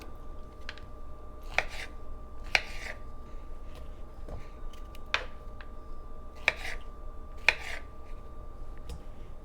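A knife cuts figs into quarters for jam, producing a series of light, crisp cutting taps against a board spaced about a second apart, close and quiet over a low steady hum.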